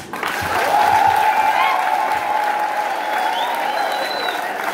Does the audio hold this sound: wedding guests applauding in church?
yes